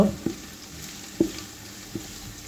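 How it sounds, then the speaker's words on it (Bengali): Onions frying with bay leaf, cloves, pepper and cardamom in a pan give a soft steady sizzle, broken by a few sharp utensil knocks as the mix is stirred, with no talk. "এখন এগুলোকে নেড়েচেড়ে ভেজে নেব পেঁয়াজ ব্রাউন হয়ে আসা পর্যন্ত"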